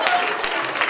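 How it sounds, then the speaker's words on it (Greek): Brief burst of scattered clapping from an audience at a school bazaar, fairly faint and lasting only a moment. "χειροκρότημα λέω για τα χωρίς εμάς"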